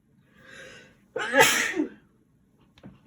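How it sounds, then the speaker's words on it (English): One sharp, loud sneeze, preceded by a soft breathy inhale and followed by a brief faint sniff; nothing else around it. "Suddenly just had to sneeze there."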